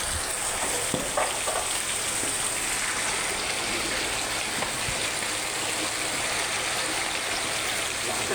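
Fish frying in a pan gives a dense, continuous sizzle, loud and even, broken by a few faint clicks and pops.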